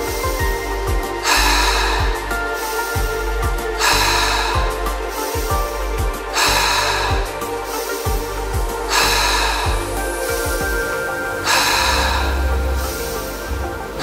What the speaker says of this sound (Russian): Вдох, выдох, вдох, выдох.